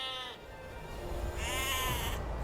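Sheep in a strategy video game bleating twice, quavering cries over a low background hum with no talking.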